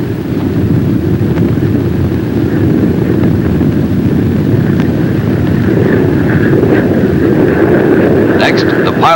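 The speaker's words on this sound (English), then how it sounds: "Since the engines are placed so close together, the plane remains steady in flight." A Banshee jet plane in flight, a steady, loud, broad engine roar with wind rush that holds continuously throughout, close and unbroken, with a faint higher whine near the end.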